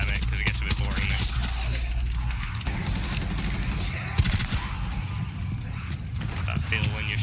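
Rapid automatic gunfire rattles as players shoot enemies in Rainbow Six Siege, close and loud in long bursts with brief breaks and mechanical clatter between them.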